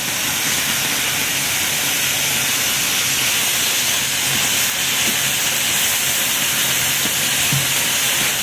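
Chicken heart dropped into a hot pot of chicken innards, a loud steady sizzling hiss that fills the whole stretch without letting up, close and dense, no voices.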